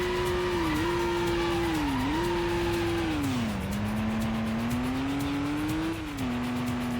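Car engine in the Stuntman video game held at a steady high drone that dips and recovers in pitch during a handbrake turn skid, loud and continuous, alone with no talk.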